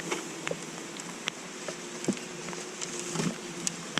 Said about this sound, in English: This is a nucleus of bees that we got yesterday